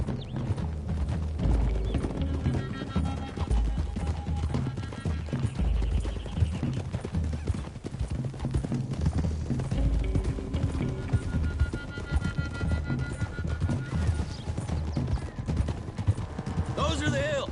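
Horses gallop in the Red Dead Redemption 2 video game, a dense steady clatter of hooves running continuously under game music, with a whinny and distant gunfire mixed in and characters talking.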